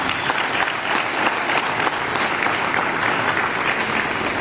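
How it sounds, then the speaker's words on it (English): A crowd at a city event in Johannesburg gives steady, dense applause for Metrobus workers at the unveiling of a new bus fleet, many hands clapping continuously throughout. "I think we must give you a big round of applause."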